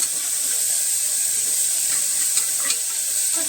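Water coming to a boil in a pot for rice, a continuous close hissing simmer with small bubbling pops.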